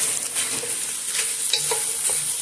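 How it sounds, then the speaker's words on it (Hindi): Large onion slices fry and get stirred in a pan while making chili chicken, a steady loud sizzle with scraping stir strokes running throughout, no voices. "अभी हम इसमें बड़े बड़े स्लाइस काट कर प्याज के डालेंगे और इसको थोड़ी देर फ्राई करेंगे"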